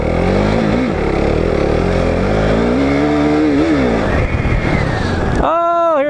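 SSR SR70 fully automatic pit bike engine revving and droning close by as it rides through soft desert terrain in Arizona, pitch rising and falling with throttle, loud and continuous throughout, with a brief voice near the end.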